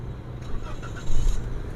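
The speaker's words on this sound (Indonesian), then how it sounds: "Oh sekali start langsung nyala." A 2017 Toyota Avanza G manual starts up nearby: a low rumble swells into a brief louder surge as the engine catches, then settles into an idle.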